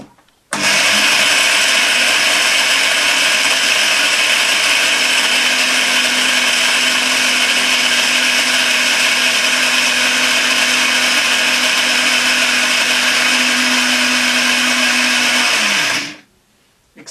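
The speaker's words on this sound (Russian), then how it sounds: "через тот же блендер перемешать" A blender whirs at full power for about fifteen seconds as it grinds dried chokeberries, a loud, steady, close motor drone that starts abruptly and cuts off at the end, with no talking.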